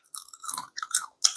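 Close, crisp crunching as sugar-coated candied ginger, stored two years in a fridge, is chewed, with several bursts of crackling bites and short pauses between them, no talking.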